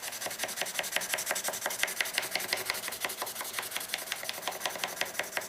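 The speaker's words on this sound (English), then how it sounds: "Wet the surface and begin to sand." Rhythmic wet sanding of a tobacco pipe stem's button with wet-or-dry sandpaper and water, close, steady back-and-forth rasping strokes about eight per second, continuous and alone.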